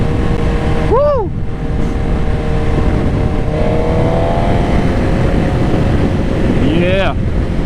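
A 2024 Suzuki GSX-R 1000 motorcycle roars steadily while riding, its engine drone heavily mixed with wind buffeting the microphone, with a rising tone as it accelerates and a brief voice or whoop near the start.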